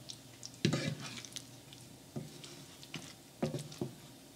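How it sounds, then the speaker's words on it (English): Boiled eggs gently rolled around in egg curry in a pan: soft scraping and stirring with a light bubbling patter, three or four quiet bursts with pauses between them. "And now very gently, we're just going to roll them around in the curry."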